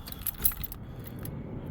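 Metal keys jangle and clink close by in a short burst while someone searches for a car key, settling into quieter rustling.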